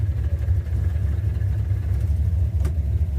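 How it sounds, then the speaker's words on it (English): An old car that had sat parked since 1999 makes a steady, loud low engine rumble with a faint clutch noise under it. One brief sharp tick comes near the end, and no one speaks. "Oh, that's the clutch we're hearing."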